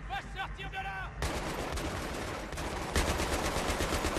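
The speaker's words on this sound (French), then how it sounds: "J'ai tiré sur le mec qui a la mitrailleuse en face de nous." Battlefield 3 gunfire rattles in bursts, starting with scattered shots under background noise and then erupting into dense, loud sustained machine-gun fire with overlapping reports.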